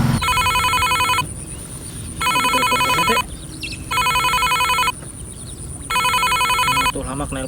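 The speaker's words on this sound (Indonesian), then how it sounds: "Tuh Hamak nelpon lah" A telephone rings loudly in four evenly spaced bursts of bright electronic trilling, with short gaps between them filled by quieter background sound.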